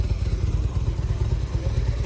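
A motorcycle engine on a road at the heights of Llucmajor overlooking Palma, Mallorca, giving a close, steady low rumble and chug that holds for about two seconds without voices.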